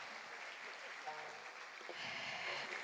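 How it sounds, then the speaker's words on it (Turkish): Audience applause at a solo concert, a continuous soft wash of many clapping hands heard from a distance, steady throughout. "Kocaman alkışlar."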